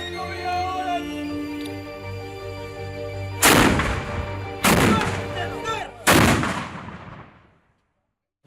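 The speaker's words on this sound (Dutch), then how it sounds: "Kanon gericht en gereed om te vuren." A cannon fires three loud booms at a Frisian castle, each a sharp blast with a rumbling tail, spaced about a second apart, over a steady background hum and followed by quiet.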